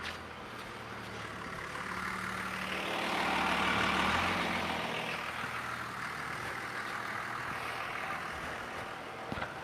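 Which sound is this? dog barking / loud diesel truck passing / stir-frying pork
loud diesel truck passing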